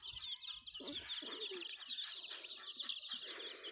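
Baby chicks outdoors in a natural setting, with a dense, continuous high chirping chorus and scattered louder peeps close by, no talking.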